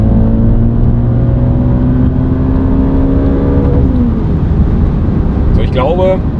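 Audi RS4 B7 with a swapped engine pulling hard in third gear: a loud, steady in-cabin engine drone with a rising tone, easing off near the end as other brief sounds come in.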